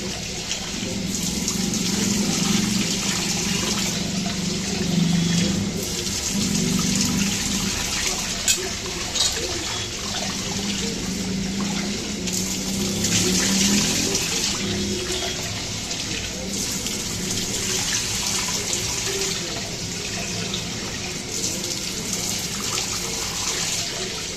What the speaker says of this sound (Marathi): तांदूळ धुवून घेते.